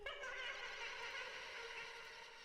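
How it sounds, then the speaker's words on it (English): Scary, mystical shimmering texture from the Soundtoys Crystallizer plugin, soft and sustained with layered airy tones drifting evenly and slowly fading toward the end. "that's because of this crystallizer plugin from Soundtoys"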